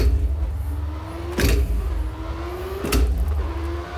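A 1986 turbo Formula 1 car in the rFactor 2 racing game, its engine droning and climbing in pitch, broken twice by sharp gearshift bursts, loud and close throughout.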